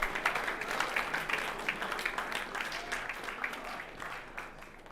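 Applause from a school audience at a fall sports awards night in Bronxville as team captains stand, a steady dense clatter of many hands at moderate distance, holding through the whole stretch with no talk over it.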